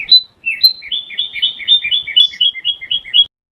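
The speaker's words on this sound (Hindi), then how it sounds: "मोना चिड़िया अपने घोंसले पर बैठी हुई थी" A small bird chirps in a rapid run of bright, high tweets, about a dozen quick notes in close succession, loud and clean against silence.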